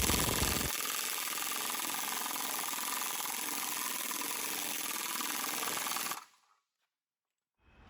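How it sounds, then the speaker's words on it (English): A shop press pushes a new bushing, coated with anti-seize, into a 1978 control arm during a rebuild. It makes a loud, steady mechanical grinding whir for about six seconds, then cuts off abruptly to near silence. "set up the press and push him in"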